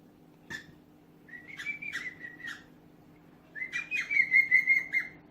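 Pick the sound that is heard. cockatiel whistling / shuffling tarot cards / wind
cockatiel whistling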